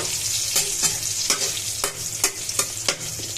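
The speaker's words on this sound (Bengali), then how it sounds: "বেগুন ভাজাটা ঠিক আছে কিনা দেখেন আপনারা" Eggplant slices frying in a pan for a home-cooked meal, a steady close sizzle broken by regular stirring or turning scrapes about every half second.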